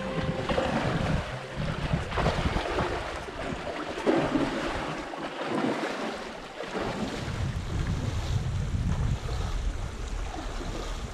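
A canoe crew wading and tracking their boat upriver through class one rapids on a long wilderness expedition, with continuous close rushing, splashing water and wind buffeting, steady and loud throughout.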